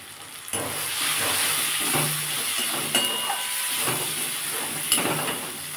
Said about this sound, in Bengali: আমি আর একটু ভালো করে কষিয়ে নেব।